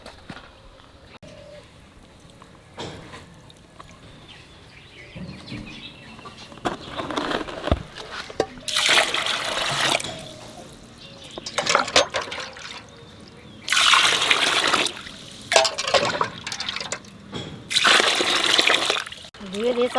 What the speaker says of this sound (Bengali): ধুয়ে দিয়ে চাল একবার পরিষ্কার করে দেবে।